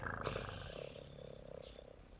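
A woman imitates a cat purring with her voice, a low rhythmic rumbling buzz held for about two seconds, close and fairly loud, with no other talking.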